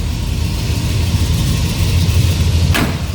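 A deep, steady V8 rumble from a 1967 Plymouth GTX's 440 engine idles nearby, low and throbbing, with a brief sharp click near the end.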